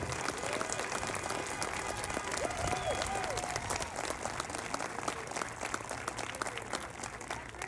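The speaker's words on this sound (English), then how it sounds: "Will you please give a big round of applause to the Municipal Band?" Sustained applause from a large audience for a municipal band at a season finale concert, a dense steady wash of clapping with a faint murmur of the crowd underneath.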